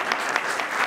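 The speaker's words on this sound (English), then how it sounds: "Big round of applause." Applause from a lecture audience, a brief burst of dense, steady clapping filling the hall with no voices over it.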